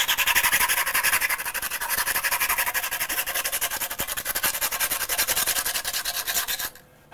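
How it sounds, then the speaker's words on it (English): Steady back-and-forth scraping of 80 grit sandpaper, a rapid rhythmic rasping that continues loud and close for several seconds before stopping abruptly near the end. "Some 80 grit sandpaper."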